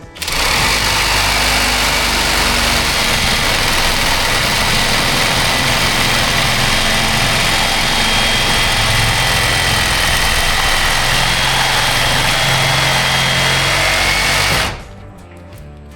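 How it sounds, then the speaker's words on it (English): A Sawzall reciprocating saw buzzes loud and close in one unbroken stretch of about fourteen seconds during a tiny-home build, then cuts off abruptly, with no voices. "now I'm gonna try it with the Sawzall because it might go all the way through"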